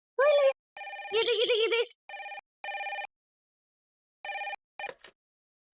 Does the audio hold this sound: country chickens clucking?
no